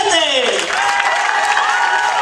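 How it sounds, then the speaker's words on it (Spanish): An audience at a quinceañera expo opening applauds and cheers loudly to welcome a former quinceañera on stage, a dense steady wash of clapping with voices mixed in. "con otro fuerte aplauso vamos a recibir a Melanie Moreno"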